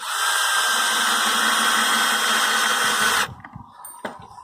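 Power drill driving screws into a wooden raised bed, one loud continuous whir of about three seconds that stops abruptly, followed by faint clicks and handling noise.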